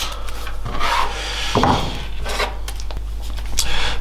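Trimming the plastic tail piece off a 2023 CFMOTO 450SR motorcycle, heard as close, rough rasping and scraping strokes with a few sharper cracks partway through, continuing steadily with no talking.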